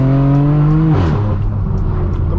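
A 1000HP BMW M4 F83 Convertible with a loud exhaust revs hard, a strong buzzing engine tone that climbs, then drops sharply and settles into a rough, rumbling idle, close and alone.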